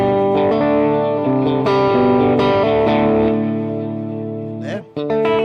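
Electric guitar driven through two TS9 overdrive pedals, playing sustained, saturated chords and single notes with a slight echo. It stays steady and loud, then briefly drops out near the end before picking back up.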